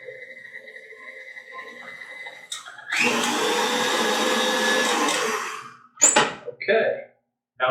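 An electric mixer beats mint chocolate brownie frosting in a bowl, giving a loud, steady whir that runs for about two and a half seconds and then cuts off, followed by a few short clatters and softer sounds.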